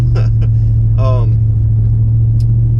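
Pickup truck engine droning from inside the cab, a steady low hum throughout, with someone speaking briefly over it.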